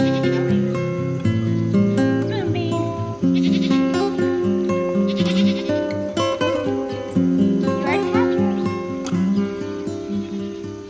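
Several goats bleat loudly and almost continuously, overlapping calls close by, with some rustling and movement around them.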